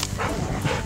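A dog on a walk through snow makes short, close, loud vocal yips or barks in quick succession.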